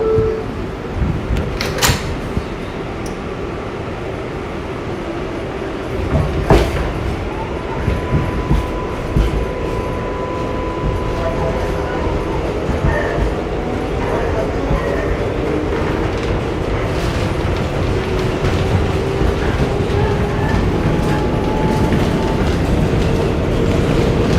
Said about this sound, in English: we are on the local train